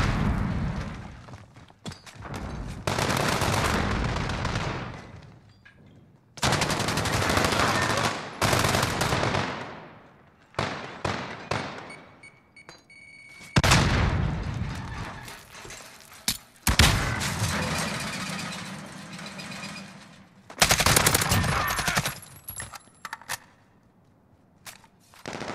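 An AK-47 assault rifle fires in a first-person shooter game, fast full-auto bursts in several separate strings of a few seconds each, loud and close, with quieter gaps of movement and footsteps between them.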